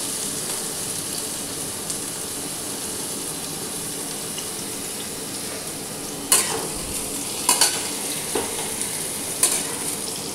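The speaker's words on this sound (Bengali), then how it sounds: "দেখুন, বেগুনগুলো ভাজা হয়ে গেল। এরপর আমি সব সবজিগুলোই দিয়ে দিচ্ছি।" Eggplant fries in oil in a pan, a steady hissing sizzle throughout, joined near the end by several sharp scraping stirs and clinks of the spatula, with no talk.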